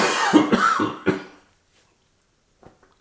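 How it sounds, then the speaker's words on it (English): Someone coughs a few times in quick succession, close and loud, right after tasting sriracha chili seasoning, then goes quiet apart from a faint brief cough near the end. "Sriracha and chili, and then you cough."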